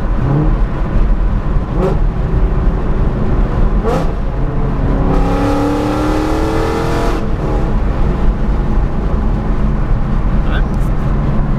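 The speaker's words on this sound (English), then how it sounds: "It's loud as shit, but if you just stay out of the throttle, you can actually, it's pretty manageable." A Ford Mustang S550 with Corsa catless longtubes and an Xtreme catback exhaust drones loudly at cruise, a rising rev swell midway, with someone talking over the engine throughout.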